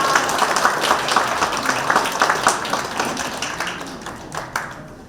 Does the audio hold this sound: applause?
yes